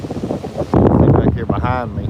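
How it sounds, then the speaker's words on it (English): Wind gusts buffet the microphone at Garden City Beach, a broad steady roar that swells from the middle onward and sits under someone talking close by. "But I know it's windy"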